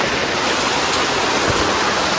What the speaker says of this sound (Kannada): ಈಗ ರೋಡಲ್ಲೆಲ್ಲ ಮಳೆ ನೀರು ಹೋಗ್ತುಂಟು